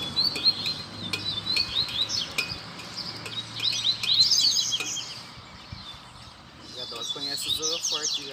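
A double-collared seedeater (coleiro) sings at an outdoor bird-singing gathering, giving bright, rapid high chirping phrases in repeated bursts at moderate distance, with people talking and light clinking around it.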